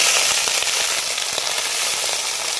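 Fish parcels wrapped in bottle gourd leaves fry in a pan, with a loud continuous close sizzle and fine crackling after water is sprinkled in.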